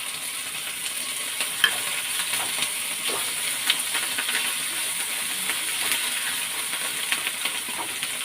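Green chili hits a pan of garlic, onion, ginger and shrimp paste for gata kamias, a steady close sizzle and hiss of frying with scattered scraping stir clicks throughout.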